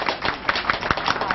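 A small group claps in a quick, steady rhythm for the host of a party, a short close burst of hand claps with no talking.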